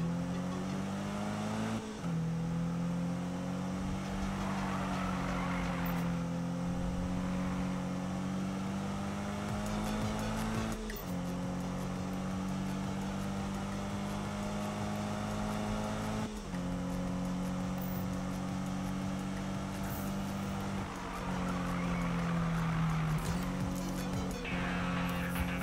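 A racing car in Need for Speed (2015) accelerates hard, its engine climbing through gears in repeated revving sweeps with brief shift dips, loud and continuous with faint tire noise.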